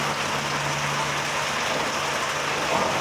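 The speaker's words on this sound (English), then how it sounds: "So, heavy rainfall out there," Heavy rain pours steadily outdoors, a dense, continuous hiss of falling water that stays loud and even throughout with no voices.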